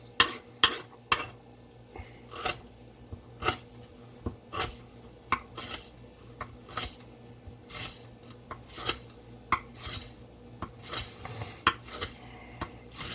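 A knife with CTS-204P steel slices repeatedly through rope, giving a steady series of short, crisp snipping strokes close up, spaced about a second apart with a faint background hum between them.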